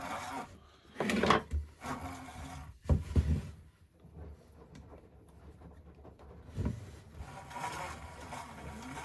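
A homemade wooden oat roller rolls with irregular wooden rumbling, creaking and rubbing in several uneven bursts and quieter gaps over about nine seconds, with no clear talking.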